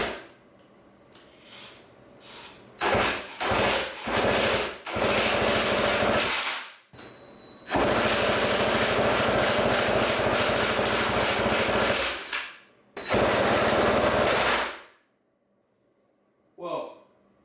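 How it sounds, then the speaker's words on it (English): Yamaha PW80 engine with a seized motor being spun over by a drill, loud bursts of whirring and churning that start and stop repeatedly, with a few knocks in between and voices nearby. "we're gonna turn this with a drill"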